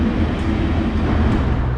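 Steam train at Dunedin railway station, a short burst of steady low rumbling and rolling rail noise close by, with no voices.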